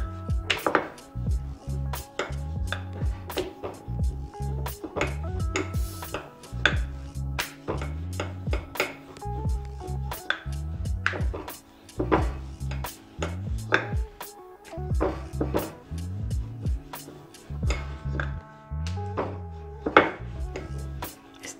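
A rolling pin works sweet samosa dough into a long shape on a board, giving repeated rhythmic wooden knocks and rolling rubs, steady and close, with no talking.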